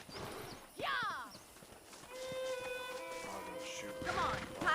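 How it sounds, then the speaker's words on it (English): A horse in the Red Dead Redemption game clops and gives a whinny over game music with a sustained tone, while voices speak intermittently around it. "I picked out a fine horse for you"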